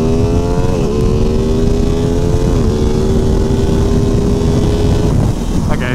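A 2023 Aprilia Tuono 660 Factory motorcycle accelerates hard in a power wheelie, its engine droning steadily with pitch steps between gears, close and loud under heavy wind rush.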